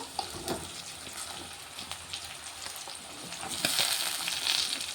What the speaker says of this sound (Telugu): ఇప్పుడు ఇందులో అయితే కట్ చేసుకున్న బీరకాయ ముక్కలు వేసుకుంటున్నా